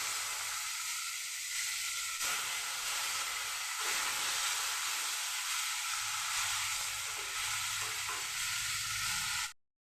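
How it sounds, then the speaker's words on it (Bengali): Pabda fish fry in the shallow oil left in the pan, giving a loud, steady sizzle and hiss that runs unbroken for about nine seconds before cutting off. "যেটুকু তেল আছে সেই তেলের মধ্যেই বাকি মাছগুলি ছেড়ে দিচ্ছি।"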